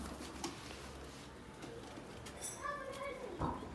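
A runaway pigeon on a balcony gives soft, low coos that sit faintly beneath nearby people talking, with some light rustling in the background.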